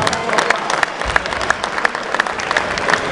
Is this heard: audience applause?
yes